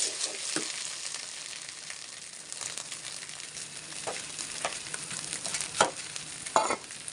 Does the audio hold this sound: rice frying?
yes